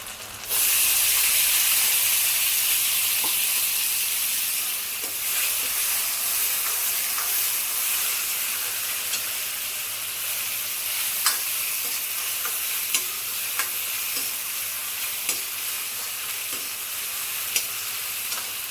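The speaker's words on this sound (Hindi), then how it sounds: "अब इसमें डाल दूँगी ये टमाटर।" Chopped tomatoes hitting hot oil in a pan for rajma, a loud burst of sizzle settling into a steady frying hiss with occasional stirring clicks, close and continuous without talk.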